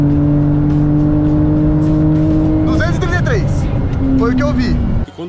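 A Porsche accelerates hard toward 200 km/h, its engine droning loudly from inside the car with rising and falling revs through gear changes, while people talk over it.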